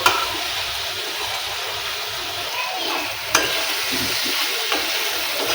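Onion and tomato curry for papad shaak cooking in a pan, with a continuous sizzle and occasional stirring scrapes and clicks close by.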